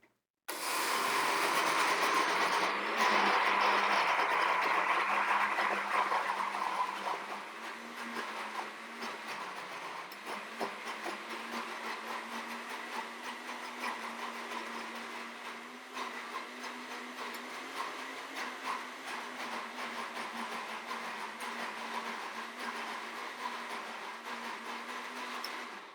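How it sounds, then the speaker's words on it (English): A kitchen blender runs on chop, then puree, then liquefy settings through a banana-based homemade dog treat mix, a loud whirring motor at first that settles into a steadier, quieter grind for a long stretch. "Put it on chop first to break it down, then puree it, then liquefy"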